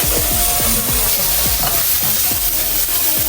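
A spatula scrapes and chops at browning sausage in a frying pan, with repeated scraping strokes over a steady loud sizzle, close up and with no talking.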